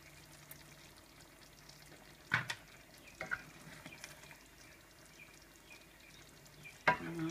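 Thai red chicken curry stirred in a pan after lime juice goes in, a low simmering sizzle with a few spoon scrapes and clinks, quiet and close.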